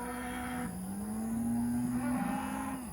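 Cattle on a regenerative ranch pasture, moved through brush during rotational grazing, give one long, loud, drawn-out moo lasting several seconds. The call is close and steady, with a low harmonic tone that shifts pitch partway through.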